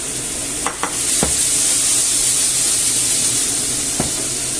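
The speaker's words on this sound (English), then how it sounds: "I'm going to add the onion, garlic and the apple" Onion, garlic and apple frying gently in oil and juice, a steady loud sizzle throughout with a few brief stirring clicks and knocks near the start and one more near the end.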